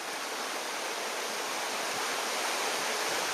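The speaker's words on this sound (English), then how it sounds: "you got a rapid" Rushing water of a rapid on Coffee Creek, a steady broadband roar that holds constant and fairly loud throughout with no other sounds standing out.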